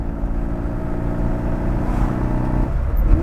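A Mini Cooper 35 with fuel injection climbing a hill in second gear, a steady, loud, low engine drone heard from inside the car, rising slightly in effort at the end.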